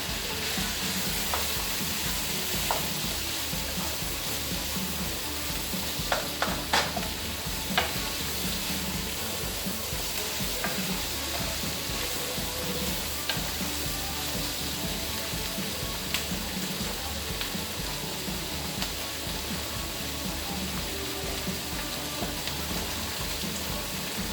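Shredded cabbage fries in a pan for pad thai, a steady, close sizzle with scattered crackles and pops, and no talk over it.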